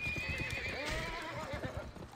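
A horse in a video game gallops with rapid, rhythmic hoofbeats and lets out a clear neigh in the middle, all at a fairly quiet level with no talking.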